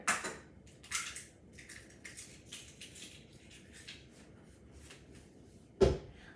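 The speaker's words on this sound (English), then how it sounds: "I always crack my eggs into a separate bowl" Eggs crack one by one into a separate bowl in a home kitchen, with soft crunches and clicks of shell plus a sharp knock near the end; fairly quiet, no voices.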